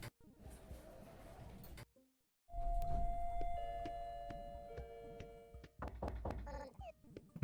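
Knocks and thuds from doors in the video game Underhero, game effects with a short thunk, a brief silence, then sustained musical tones and a cluster of sharp knocking hits near the end, with no talk.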